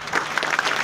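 An audience at an educational talk for high-scoring students breaks into applause, a brief, dense burst of many hands clapping at moderate volume.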